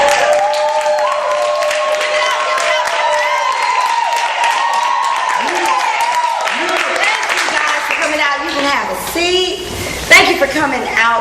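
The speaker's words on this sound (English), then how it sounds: "So get up and clap your hands" A live talk show audience claps along with crowd noise, under loud voices and singing that run through the whole stretch, building into a busier burst near the end.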